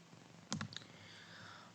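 A computer mouse gives a quick cluster of two or three faint, close clicks in an otherwise quiet room.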